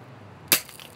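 A single sharp crack of a BB gun shot, one brief snap standing out against a quiet background.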